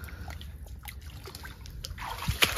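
Water bailed by hand out of a drained village canal while fishing trickles and splashes faintly at close range, ending in a sharper splash and slosh near the end.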